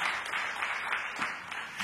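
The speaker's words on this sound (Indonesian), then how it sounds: "Tepuk tangan yang meriah bagi Tuhan Yesus." A church congregation applauding during a sermon: a brief, steady wash of many hands clapping, heard from a distance.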